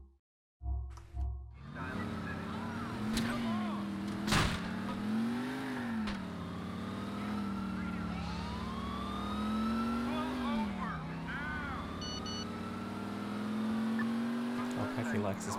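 A Voodoo car's engine drones and revs while driving in GTA IV, its pitch swelling and dipping through shifts, with a sharp knock partway through, a tire squeal and a steady close roar throughout.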